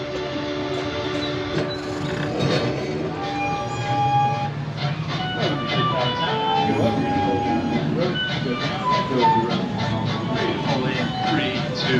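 A LEGOLAND ride train runs along its track with a steady rumble and rattling, overlaid by tonal whining and bell-like sounds, while voices are faintly heard at times.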